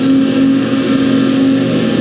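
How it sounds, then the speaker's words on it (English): Tractor mowing grass at a campsite entrance, a loud, steady engine drone with a constant tonal hum, close by and unbroken. "He's down here cutting the grass, I think."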